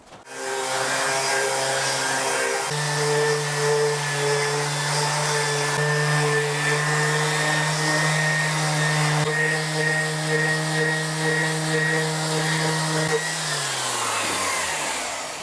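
A shop vacuum runs steadily and loudly throughout while a guitar body is sanded, its tonal whine starting up, shifting pitch a couple of times, then winding down near the end, with no talking.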